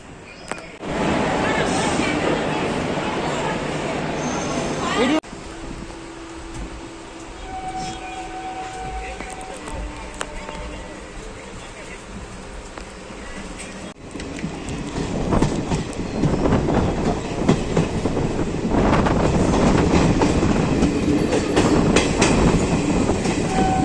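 A train rumbles steadily nearby at Junagadh railway station with clattering wheels and a brief squeal, a loud continuous roar filling the whole stretch.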